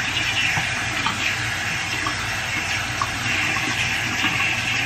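A tap runs steadily into a sink as a washcloth is wetted during a skin care routine, a continuous close splashing stream with no talking.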